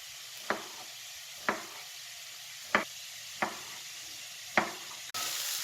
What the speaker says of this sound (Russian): Пока наш лучок обжаривается вместе с болгарским перцем